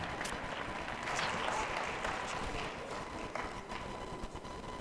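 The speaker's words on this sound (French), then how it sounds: "Vous pouvez les applaudir, ils sont intimidés." Audience applause at a municipal New Year's greetings event, a sustained faint wash of clapping heard from some distance, continuous throughout with a little crowd murmur.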